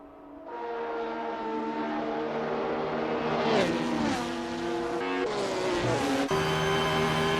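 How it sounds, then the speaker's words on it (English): Race cars accelerate out of corners in the Assetto Corsa racing game during a WSC60 endurance round at Monza, with engine tones rising and shifting through gears, steady and loud for the whole stretch. "Martin Truex getting some solid torque out of those corners"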